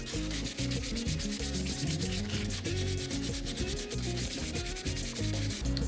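A brush scrubs the grimy differential housing of a BMW E46 Touring in rapid, steady back-and-forth strokes, close-up and without talk.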